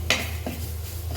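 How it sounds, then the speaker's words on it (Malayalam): A spoon scrapes and clinks against a pan while stirring chicken chukka masala: a sharp metallic tap, then softer scraping touches over a low steady background hum, close and brief. "നന്നായി ഇളക്കി കൊടുക്കാം."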